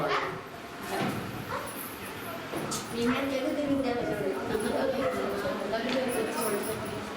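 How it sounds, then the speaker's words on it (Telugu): Dog barking during an outdoor Sunday worship gathering, a few short barks early and then yips and whimpers mixed with steady crowd sound and talk. "మా కుక్క వచ్చింది ఎక్కడ చూడండి"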